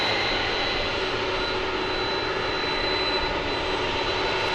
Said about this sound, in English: this is a 7879 Dreamliner